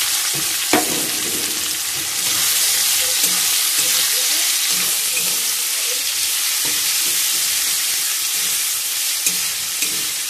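Chopped onion drops into hot oil with melted sugar in a pan for Bengali chicken kosha, setting off a loud, continuous close sizzle with faint stirring scrapes throughout.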